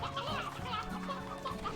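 Chickens in Slime Rancher 2 cluck in a continuous, busy chorus of short bursts, close and moderately loud, blended with a steady background hum.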